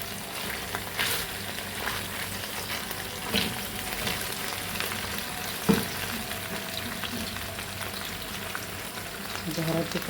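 Chicken sautéing with minced garlic in a pan, a steady close sizzle and crackle running throughout with occasional stirring knocks.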